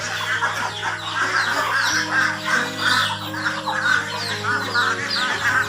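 Farmyard chickens clucking continuously at close range, with overlapping bird calls and a steady low hum in the background, no talking.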